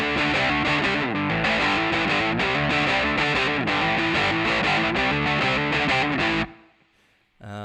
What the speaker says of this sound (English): That's the main riff. Happens through the verses and also the chorus.